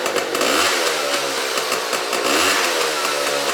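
A Honda Cub EZ90 mini bike engine idles and revs loudly up close with no chain hooked up and the secondary muffler removed, a steady rattling drone that surges twice, with no voices.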